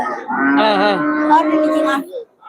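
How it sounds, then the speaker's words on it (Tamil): A Sindhi cow at a cattle market lets out a single close, drawn-out moo lasting about two seconds, clear and loud with little background noise. "இது சிந்து மாடு சிந்து மாடு"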